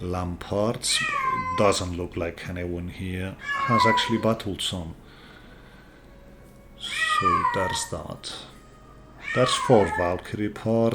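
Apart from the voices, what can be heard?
pet cat meowing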